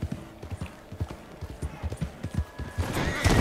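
A horse gallops in the online Western game Red Dead Online, its hooves beating in a quick, regular rhythm, close and moderately loud, swelling into a louder rush at the end.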